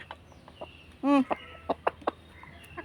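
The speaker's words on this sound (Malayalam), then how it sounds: "അവനൊരു കൂവല് ദേ ഈ പൂവനും ആ പൂവനും തമ്മിൽ ഭയങ്കര കൊത്തുകൂടലാണ്" Farmyard roosters squabble at close range: a brief loud crow-like call followed by several sharp, separate clucks and squawks spaced over a couple of seconds, with faint background noise between them.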